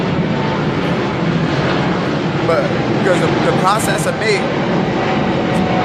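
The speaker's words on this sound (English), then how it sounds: "That's the airplane. You heard that?" A fixed-wing airplane drones steadily overhead, a continuous broad roar that fills the whole scene while someone talks over it.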